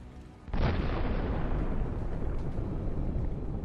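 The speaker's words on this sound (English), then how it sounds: "The Ukrainian drone strikes the UR-77. A fire starts, which engulfs the charges." A Russian UR-77 mine-clearing vehicle's charges blowing up after a Ukrainian drone strike sets it on fire: a sudden heavy boom followed by a long, loud, sustained roar that slowly fades, distant and without voices.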